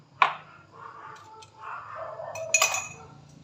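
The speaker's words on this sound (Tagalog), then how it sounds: "So, ako ay maghuhugas ng pinggan." Dishes clink and clatter in a lavatory sink, with a sharp clink near the start and a cluster of glassy knocks toward the end.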